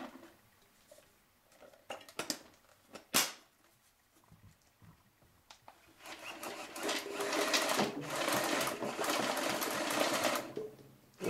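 A Journey paintball hopper with an anti-jam motor whirs and feeds in short bursts at first, then runs in a steady louder grinding buzz, close and fairly faint, with no talking.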